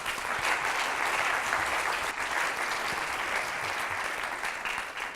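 Conference audience at a plenary session on digital transitions for associations applauding, a dense, steady roar of many hands clapping at once that carries on unbroken and quite loud.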